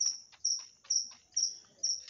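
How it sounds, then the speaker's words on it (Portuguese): A cricket chirps in short, regular pulses about every half second, a steady high-pitched trill repeating close to the microphone with no other sounds around it. "Agora esse grilo, tropa, tá chato pra caramba, viu"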